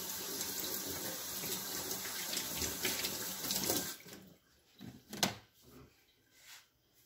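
A kitchen faucet runs as hands are rinsed after making old-fashioned date roll candy. Steady splashing water flows for about four seconds, then shuts off, followed by a few soft clunks and handling noises.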